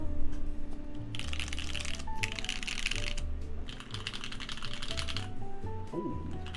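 Steady close typing on a Keycult No.2 mechanical keyboard with vintage black switches and PBT keycaps, a dense run of clacky keystrokes over a low background hum, with no talking.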